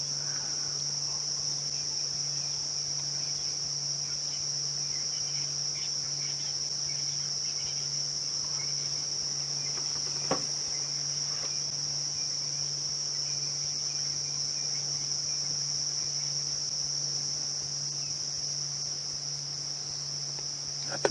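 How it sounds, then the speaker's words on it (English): Steady, continuous buzzing of cicadas on an evening safari drive fills the whole stretch, a high sustained drone with a brief faint click midway. "At the moment, all I can hear is cicadas."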